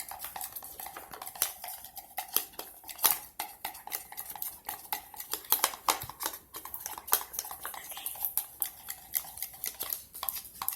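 Spray paint being mixed in a cup: a continuous quick scraping and tapping stir, steady and fairly faint, running without a break.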